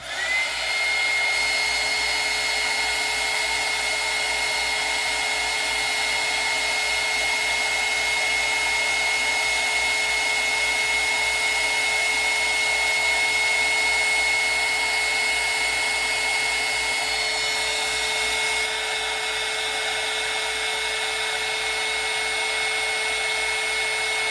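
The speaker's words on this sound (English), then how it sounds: "So now I'm going to hit that with the heat gun and hopefully dry it up" A heat gun blows steadily and loudly, drying a freshly applied layer while making a doll, with a continuous whooshing roar that holds the same pitch from start to end and has no voices over it.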